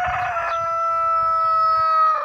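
A Brahma rooster crows once, loud and close, a long drawn-out tonal call that holds steady for about two seconds, with a little clucking at the start and no talk.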